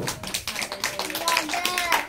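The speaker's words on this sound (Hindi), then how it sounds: "वेरी गुड, ताली बजाए बहन के लिए" A church congregation at a Bible lesson claps together in a fast, dense patter, with voices and a child's speech mixed in throughout.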